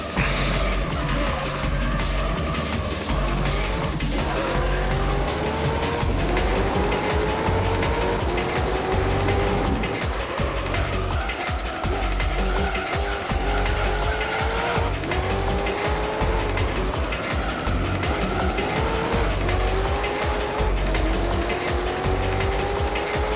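Race car in Gran Turismo 3 spins out, tires squealing in long rising and falling screeches over a loud, sustained engine whine that continues throughout.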